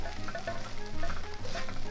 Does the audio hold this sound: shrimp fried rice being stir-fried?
yes